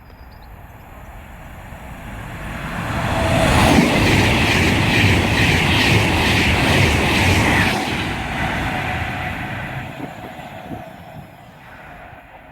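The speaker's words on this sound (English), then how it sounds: "the train now approaching is going to be a Virgin train to Pendolino bound for Liverpool Lime Street" A Virgin Pendolino train bound for Liverpool Lime Street passes at Hartford on the West Coast Main Line, rising to a loud roar with rhythmic wheel clatter and faint squeal, then fading away.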